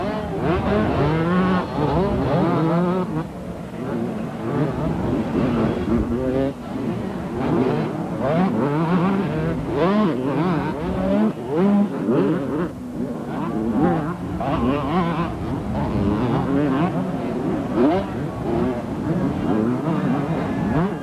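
Supercross motorcycles roar down the back straight of a 1989 Canberra race, a dense buzzing engine drone of several bikes revving continuously, with a commentator talking over it throughout.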